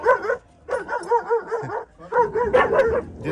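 A dog barks in short repeated bursts, loud and close, with yips and whimpering tones between groups of barks and a brief pause in the middle.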